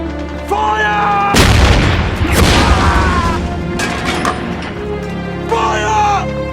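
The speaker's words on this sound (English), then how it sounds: "Request artillery to grids 479 16!" Heavy artillery fire in a war film, with a huge close boom that rolls into a long rumbling blast, then further thuds and crashes as shouted voices carry over it.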